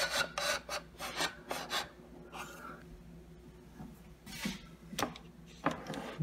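Sliding keyboard drawer at the front of a legacy computer case, heard as a series of soft scraping rubs and clunks of the drawer moving, faint and close.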